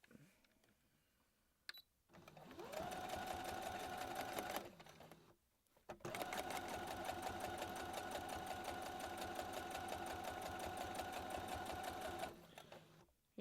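Domestic sewing machine stitching a straight quarter-inch seam on a reversible bucket hat: two rapid, steady mechanical runs of fast rhythmic needle clatter, about two and six seconds long, separated by a brief pause, close and alone.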